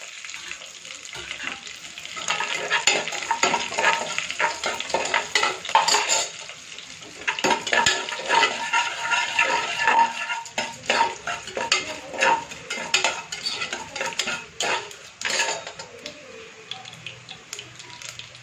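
Mustard seeds splutter and crackle in hot oil while tempering for brinjal kosamalli, a dense close sizzle with sharp pops, plus a spoon scraping and clinking against the pan.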